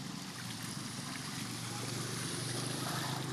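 Floodwater covers a street deep enough to reach halfway up motorbike wheels, a constant dense rushing wash with churning and sloshing, close and loud, with no voices.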